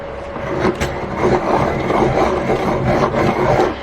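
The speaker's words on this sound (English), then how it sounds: "I do use the Helix Sharpener. It's just a crank sharpener" A colored pencil being sharpened in a Helix hand-crank sharpener gives a continuous close grinding, rasping rub that holds steady for several seconds, with no voices.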